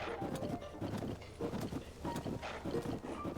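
Horse hooves clip-clopping in the video game Zelda Tears of the Kingdom, a steady, fairly close rhythmic patter of hoofbeats continuing throughout with no pause.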